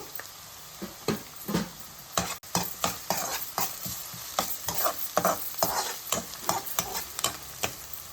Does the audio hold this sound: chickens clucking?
no